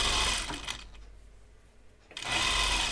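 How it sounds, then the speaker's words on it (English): A sewing machine stitches an armhole seam on a 1940s-style dress, enclosing a trimmed raw edge, in two steady bursts separated by a short pause. "So now I'm just sewing this same armhole seam, enclosing that raw edge that we just sewed and trimmed."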